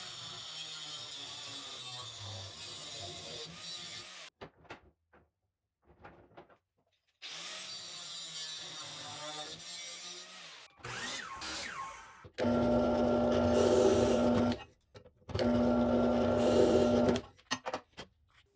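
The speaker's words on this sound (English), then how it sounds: "I'm going to be using my angle grinder to cut off a couple pins" An angle grinder cutting off metal pins at a workbench runs in several loud bursts separated by short pauses, its whine rising as it grinds, ending with two long, harsh cutting runs.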